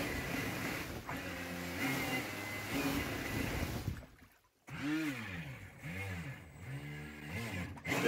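A 3D printed jet drive powered by a Milwaukee M18 motor on a 5 amp hour battery runs in a pool, its whining motor rising and falling in pitch through repeated revs, with a brief dropout midway.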